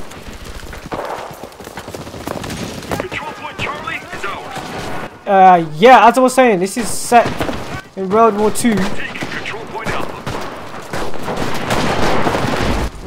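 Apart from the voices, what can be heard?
gunfire in WW2 shooter video game Enlisted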